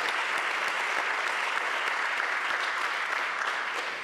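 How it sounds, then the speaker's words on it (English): An audience at a Metro Nashville Public Schools state of schools address gives the school board a round of applause, a steady, even wash of many hands clapping throughout. "can we give our board a round of applause for their tireless efforts?"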